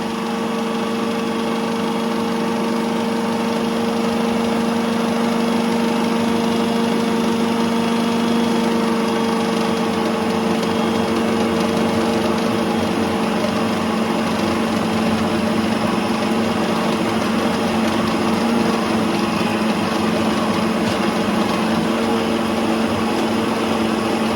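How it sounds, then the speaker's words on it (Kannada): A mixer grinder motor whirs loudly and steadily grinding batter, a constant mechanical hum without pause. "ಹಿಟ್ಟನ್ನ ಕೂಡ ಮಿಕ್ಸಲ್ಲಿ ಗ್ರೈಂಡ್ ಮಾಡ್ಕೊಳ್ತಾ ಇದ್ದೀನಿ"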